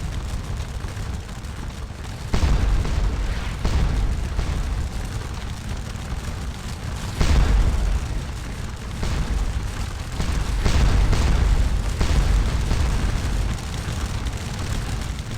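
Battlefield powder explosions in the video game Scourge of War: Waterloo, a constant barrage of heavy booms and rumbling blasts, with louder detonations landing around a few seconds in and again later, filling the whole stretch without pause.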